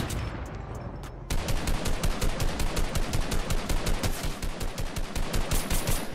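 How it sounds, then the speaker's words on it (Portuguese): Rapid, continuous automatic gunfire in Fortnite, loud and rhythmic, after a second of muffled sporadic shots. "esse tiro foi... Brega, Diego."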